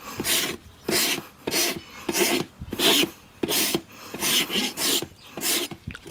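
A rasp files a horse's hoof wall during a trim, giving about ten loud, rhythmic rough strokes in steady succession with brief gaps between them.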